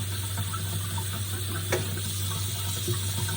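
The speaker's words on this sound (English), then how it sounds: "I'm filling this big pan up about halfway with cold water." Cold tap water running steadily into a big cooking pan, a constant rushing flow with a faint clink midway.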